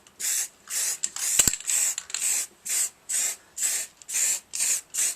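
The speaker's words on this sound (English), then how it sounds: "Get a spray of black" An aerosol can sprays black paint in about ten separate bursts, each lasting roughly a third of a second, in an even on-off rhythm. The bursts are close and fairly loud, and one brief knock falls between them.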